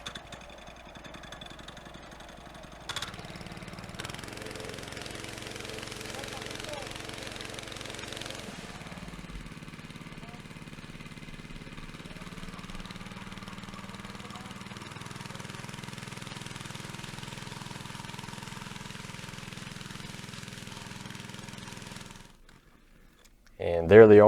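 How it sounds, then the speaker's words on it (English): A concrete power trowel machine smooths setting concrete for a steel building's floor, giving a steady, fairly distant low engine drone that shifts slightly partway through and stops near the end. "starting off with the trowel machine. Going through there, trying to get it all nice and smoothed up."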